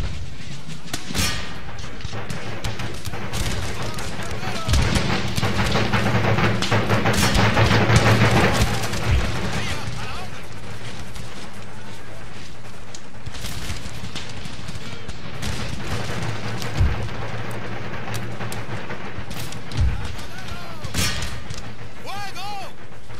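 Cannons firing in Empire Total War during a siege battle, a continuous din of booming artillery and crackling gunfire with repeated loud impacts throughout.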